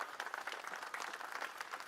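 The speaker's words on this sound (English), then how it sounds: "So I want to give a round of applause for Doug for his great leadership." A crowd at a Knoxville downtown stadium naming and logo unveiling claps in a round of applause for Doug, a steady patter of many hands heard faint and at a distance.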